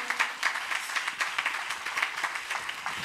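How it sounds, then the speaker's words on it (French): Congregation applauding during a church service, dense steady clapping from many hands filling the room, fairly loud and continuous without speech. "On acclame très fort la parole du Seigneur."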